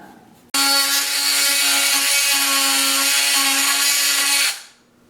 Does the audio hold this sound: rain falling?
no